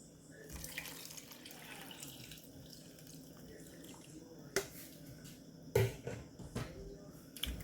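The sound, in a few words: water being poured into cooking pot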